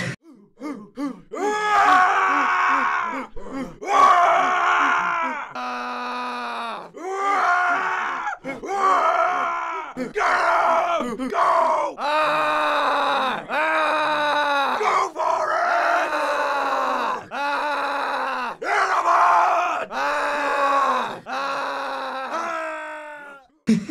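Video game voice actors scream into microphones in a recording room, a long run of loud, strained yells and groans, repeated takes separated by brief pauses.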